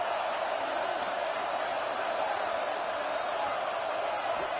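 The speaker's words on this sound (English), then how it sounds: "Listen to this crowd just shaking the girders of this place" A stadium crowd in the college football game NCAA 26 roars in a dense, steady wash of noise that holds at one level throughout, with no pauses or swells.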